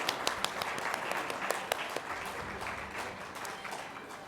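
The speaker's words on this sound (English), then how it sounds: "if we could have a warm round of applause reach him" At a Taj Stars awards ceremony, an audience gives an absent awardee a warm round of applause: moderate, fairly quiet clapping from a crowd, with a few sharper individual claps standing out and little talk.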